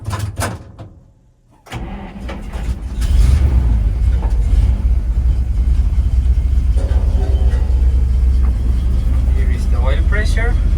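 The engine of a Ural 375D Soviet military truck cranks and fires up after a brief click and a pause, then settles into a loud, deep, steady rumble while someone talks over it.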